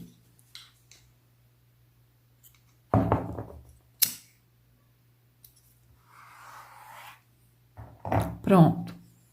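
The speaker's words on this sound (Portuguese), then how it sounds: "Vou cortar. Pegar aqui a tesoura." Scissors snip crochet thread in a few quick close clicks and cuts, separated by quiet pauses, with soft rustling of the crochet work and a low steady hum underneath.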